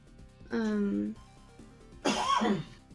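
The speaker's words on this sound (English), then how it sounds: "That was my husband coughing at me" A man coughs indoors: a short voiced throat sound followed by a harsh, louder cough burst, close to the microphone.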